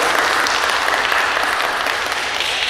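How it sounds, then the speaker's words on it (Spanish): Guests at a quinceañera celebration in Passaic, New Jersey clap in a loud, close, continuous burst of applause with no break. "para nuestra quinceañera le vamos a dar un fuerte aplauso primero que nada"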